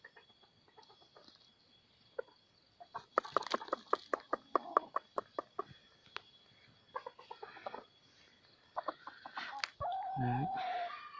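F1 golden-hackle chickens and a rooster cluck in a steady run of sharp, fairly close calls, with a louder, longer crow near the end; no voices.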